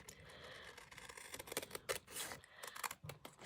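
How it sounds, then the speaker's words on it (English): Scissors snipping the flaps off a cardboard packaging box, a quiet, close run of irregular crunching cuts and short rasps, several in quick succession with brief pauses between. "let's quickly cut these flaps off."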